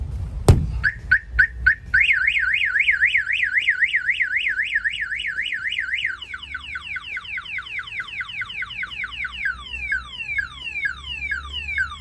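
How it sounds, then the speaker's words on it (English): A semi truck's security alarm going off close by: a few sharp chirps, then a rapid warbling tone, shifting into a repeating descending whoop pattern. "If somebody opens the door or they try to bust out a window, the alarm will fire off."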